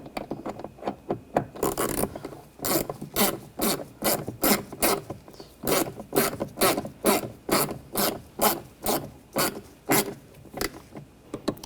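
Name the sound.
tightening screws on BMW X5 window regulator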